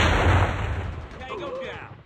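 Gunfire in the mobile shooter Call of Duty Mobile: a loud close burst of shots that rings out and decays into fading echoes and game sound effects.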